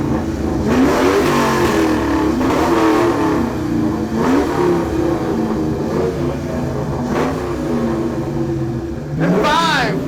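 A 2002 Ford Mustang GT revving repeatedly at a car show revving contest, several loud, rising throttle bursts spaced a couple of seconds apart, ending in a sharp high rev, with a voice faintly underneath.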